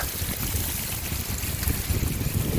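Heavy rain pours down at night in a first big downpour, a dense, steady hiss of water with splashing and trickling, close and continuous without talk.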